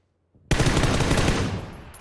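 Automatic gunfire in the video game PUBG on the Miramar map erupts suddenly as a loud, dense rattle that holds for over a second before tapering off.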